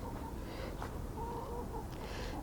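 Soft, scattered clucking from chickens nearby under a steady low background hum, with a few brief higher notes breaking through.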